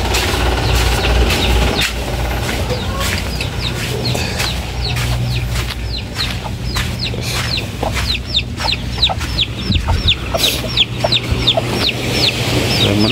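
Native chickens kept at a rural home cluck repeatedly in short, sharp bursts throughout, close and loud over a steady low engine-like hum in the background.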